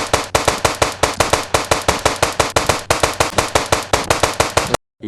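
Rapid, evenly spaced bursts of automatic gunfire in a zombie survival video game, loud and close, about five shots per second for nearly five seconds before cutting off.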